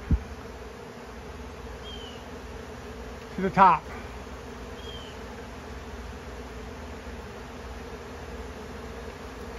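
Honeybees and robber bees swarm around a hive cutout, a steady low buzzing hum heard up close throughout, with a brief spoken phrase in the middle.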